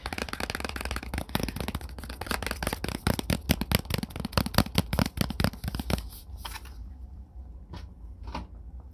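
Tarot cards being shuffled and handled in an ASMR setting, a long run of crisp riffling snaps close up, followed by a few sparse card taps and handling sounds in quiet surroundings, with no talking.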